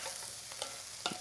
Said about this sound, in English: when you're cooking the mushrooms, you want to make sure that they're not cooking in a dry pan